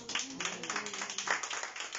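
Church congregation applauding during a Spanish-language sermon, a steady run of brisk, fairly quiet claps spread across the whole moment.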